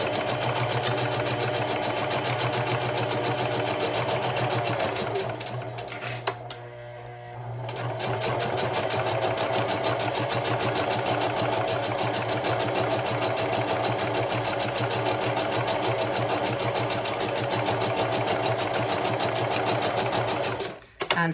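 A sewing machine stitching through layers of a large tote bag, running in a fast, steady whir close by, with a brief pause midway before it resumes and then stops.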